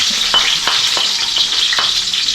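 Garlic sautéing in a pan, a loud, close, steady sizzle with rhythmic spatula scrapes repeating every half second or so.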